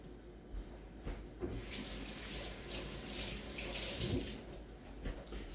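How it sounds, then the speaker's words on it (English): Scallions are rinsed under a running kitchen tap, water splashing and pattering into the sink with shifting surges as the stalks move through the stream, close and moderately quiet. "Now the scallion, we'll rinse quickly."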